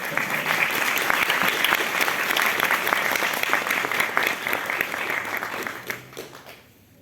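A seated audience at an academic panel event gives steady, dense applause at moderate distance, holding evenly for several seconds before fading out at the end.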